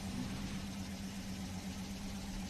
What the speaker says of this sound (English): You can also hear those Jeep engines doing work.